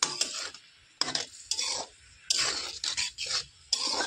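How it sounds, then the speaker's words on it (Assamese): A spoon stirs sweet amla (Indian gooseberry) pickle in a pan, making a close series of short scraping, rubbing strokes separated by brief pauses. "এবাৰ ইয়াতে মই আমলখিকেইটা দি দিলোঁ। ইয়াকো মই লৰাই থাকোঁ।"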